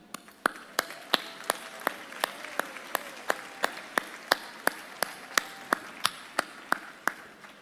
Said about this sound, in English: Please join me in applauding this remarkable leader of our community.